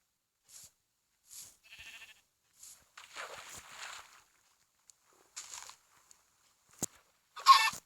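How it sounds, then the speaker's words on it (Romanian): Chickens in a garden give short, scattered clucks and squawks at moderate distance, with a few sharper calls near the end and quiet gaps between them. "Găinuși."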